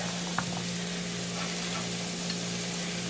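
Chopped zucchini and onions fry in a pan, a steady close sizzle running without a break, with a faint clink or stir near the start.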